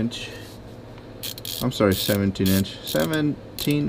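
A ratchet fitted with a 17 mm socket works the oil drain plug on a 2005 Honda Pilot, giving several short, close, creaking clicks in uneven bursts after a quiet start.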